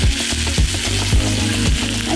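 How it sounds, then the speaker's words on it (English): Beef short ribs sear in hot oil in a large shallow saucepan, a loud, close, continuous sizzle and crackle with repeated thumps and scrapes as the meat is shifted, no voices. "take your ribs and sear them"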